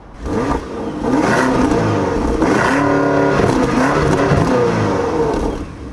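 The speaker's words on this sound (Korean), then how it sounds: "M60i를 보신 김에 저희가 배기음을 한번 같이 들어보실까요?" A BMW X5 M60i high-performance SUV engine revs hard and holds at a loud, throaty roar, the exhaust rising and surging over several seconds before easing off.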